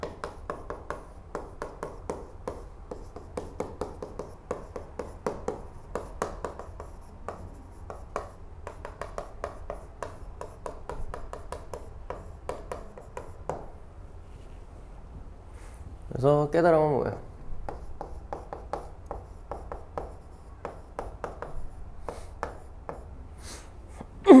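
A pen writes on paper in short, scratchy strokes that tap along steadily, close and fairly quiet, with a brief louder burst of talk or a throat noise partway through.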